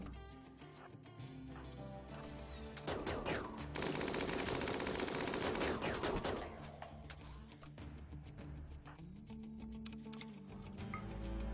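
Gunfire from a siege battle in the PC game RimWorld forms a faint, dense rattle of rapid shots that swells into a sustained burst midway. Lighter scattered clicks come before and after.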